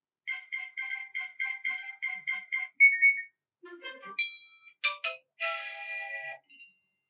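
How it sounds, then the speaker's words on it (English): Classic iPhone message notification tones play one after another as previews: a rapid run of bright repeated chimes, then several short distinct electronic jingles and dings, clear and alone with silence between them. "you will find even more classic notification sounds"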